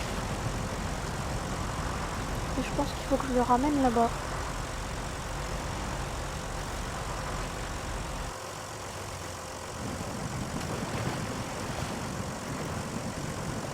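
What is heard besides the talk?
tractor engine running in the video game Snow Runner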